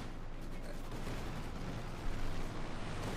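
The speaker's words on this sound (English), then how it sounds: "And there you go, strafing run going in here." Aircraft strafing run in Company of Heroes 2, a dense low rumble of rapid gunfire and explosions, fairly faint and continuous, swelling slightly near the end.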